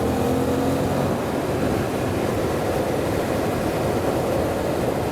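Yamaha MT-07 motorcycle engine pulling hard in fourth gear after a downshift, a dense, steady roar under heavy wind noise that stays loud and even throughout, with no talking.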